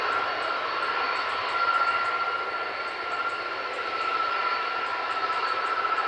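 Virgin Atlantic Airbus A330 taking off from Manchester Airport, a steady broad jet roar holding at a constant level with a faint high whine, heard from a distance with no voices.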